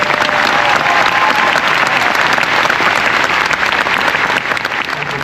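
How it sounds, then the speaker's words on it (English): A large audience at a Disney fan musical celebration applauds steadily and loudly, a dense continuous wash of clapping from a big crowd that eases off slightly toward the end. "So how about a special applause?"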